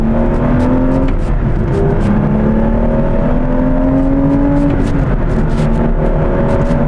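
Aston Martin V12 S with its V12 engine accelerating, a loud, close, continuous roar that climbs in pitch, dips briefly as gears change, then rises again, with no talking.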